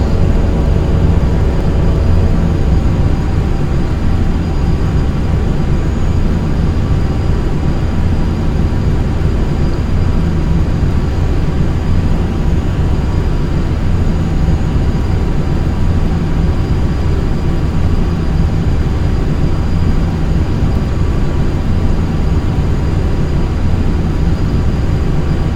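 Continuous airplane engine drone in flight in Flight Simulator X, a loud steady hum and rumble that holds evenly throughout with no talking.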